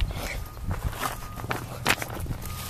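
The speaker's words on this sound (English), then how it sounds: "as you can tell, walking on rocks" Footsteps crunch over loose rocks outdoors, a run of uneven close steps with scraping and shifting stones, fairly soft overall with a few louder scuffs.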